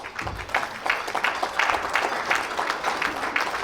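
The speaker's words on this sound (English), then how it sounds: "Give yourselves a round of applause" Applause from the audience fills a banquet hall at an annual baseball scouts' awards dinner, a steady dense wash of many hands clapping from start to finish with no break.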